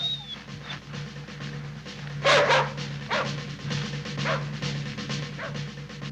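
A rescue dog barking in snow while searching, a few sharp barks with one loud burst in the middle and fainter yips after, heard over a low steady hum.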